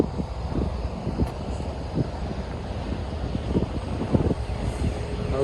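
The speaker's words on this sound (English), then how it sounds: "But the plane really is taking care of itself in safe mode." An E-flite Habu STS ready-to-fly RC jet flies in safe mode on a windy day, its steady whirring engine drone continuous and moderately loud, mixed with wind noise and a few soft knocks.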